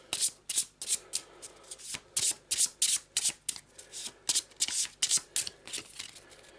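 Cards from the Descent second edition board game being shuffled and drawn, a steady run of crisp riffling and sliding swishes in quick repeated bursts, close and clear with no talk over them.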